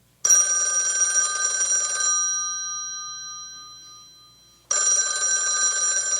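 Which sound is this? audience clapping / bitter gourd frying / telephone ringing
telephone ringing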